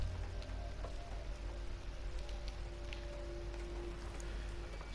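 Rain falls steadily in Detroit: Become Human, a quiet, even patter with scattered drips and a faint tone underneath.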